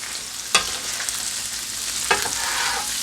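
Cheesesteak meat sizzling in grease on a flat griddle, a steady broadband crackle with two sharp spatula scrapes or clacks as the meat is chopped and worked.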